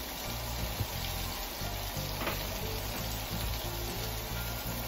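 Bell peppers and leeks fry in butter with a continuous crackling sizzle, with faint stirring and scraping underneath.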